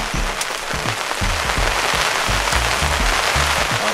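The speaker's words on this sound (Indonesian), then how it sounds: "Hujan angin." Heavy storm rain with wind pours down hard at a fishing spot in Sembayat, Gresik, a loud, dense, continuous drumming patter on nearby surfaces.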